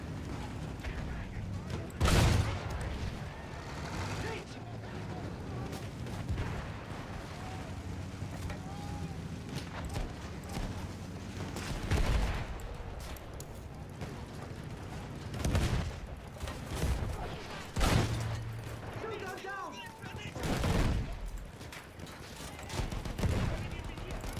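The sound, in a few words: machine gun fire in video game Battlefield 1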